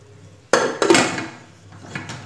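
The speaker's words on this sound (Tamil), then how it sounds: "2 நிமிஷம் சும்மா குக்கர் மூடி வச்சு மூடி வச்சிடலாம்" A pressure cooker lid clanks down onto the metal pot with a sharp metallic impact, a quick rattling second knock as it settles, then softer scraping taps as it is fitted, close and loud with no voices.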